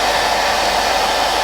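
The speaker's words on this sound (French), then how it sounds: "Je vous conseille vraiment de le faire au sèche-cheveux" A hair dryer blows cold air to dry face paint, a steady, loud, close whooshing hum that holds unchanged throughout with no other sounds.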